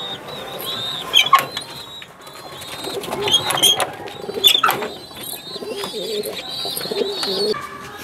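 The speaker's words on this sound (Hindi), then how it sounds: "आज जो भाई के घर में कबूतर देखे हैं" Madrasi and Fulsira pigeons coo and call inside a home loft, soft repeated throaty coos from several birds close by, with an occasional brief flutter and a faint voice in the background.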